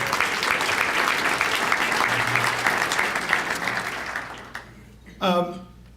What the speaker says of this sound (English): give Jay Doherty a round of applause